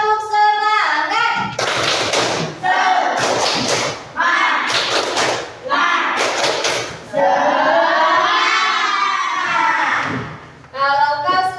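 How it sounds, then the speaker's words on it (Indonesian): Schoolchildren do a rhythmic clapping chant, with bursts of sharp, loud group claps in a set pattern alternating with sung or chanted voices over several repetitions. "Coba tepuk semangat."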